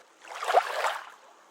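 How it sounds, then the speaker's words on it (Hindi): Someone swimming across a pond, with a soft burst of water splashing and sloshing that swells and fades over about a second, alone and fairly close. "मोहन पानी में तैरकर दिया तक पहुंच गया"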